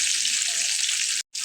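Sea fish fries in hot oil, giving a close, steady sizzling hiss that cuts off abruptly for a moment near the end before resuming.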